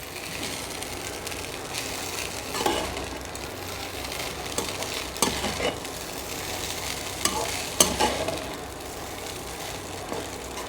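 Coconut rice sevai being stirred and mixed in a hot pan: a continuous soft sizzle with repeated scraping strokes of a utensil at irregular intervals, close and fairly quiet, with no voices.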